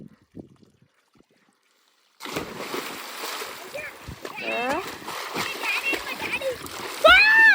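Children swimming in a water sump, splashing repeatedly after a near-silent start, with kids' voices shouting and chattering over the water.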